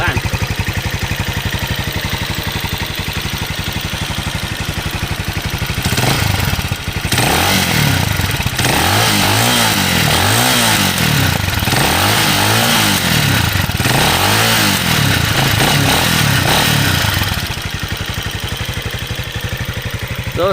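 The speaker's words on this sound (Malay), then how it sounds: "saya nak kasih start dan kita boleh dengar bunyi exhaust" Cleveland CycleWerks Ace 250 motorcycle exhaust idling steadily up close, then revved repeatedly in rising and falling bursts before settling back to idle.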